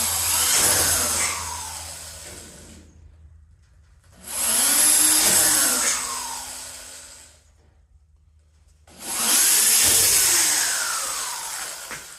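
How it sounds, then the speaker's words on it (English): Power drill boring holes in a cold workshop, three long bursts of high whining motor noise, each spinning up, running a few seconds and winding down, separated by quiet gaps. "I doubt if you want to see me drill more holes"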